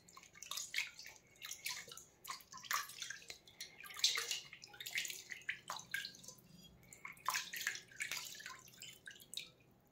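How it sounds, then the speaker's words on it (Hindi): Copper and brass utensils being washed in a large basin of water, with irregular splashes, drips and sloshing that come in close bursts and stay fairly quiet, with no talking. "अब हम इन बर्तनों को धो लेते हैं"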